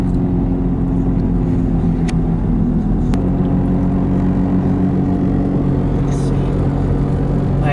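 A car engine drones steadily from inside the cabin while driving fast, a low continuous rumble with road noise and no clear gear changes.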